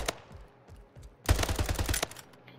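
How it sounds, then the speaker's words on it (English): An assault rifle in the video game Splitgate fires a few scattered shots, then a rapid automatic burst of about ten rounds, loud and close, with no voices. "just look for assault rifle right here, and basically just start shooting"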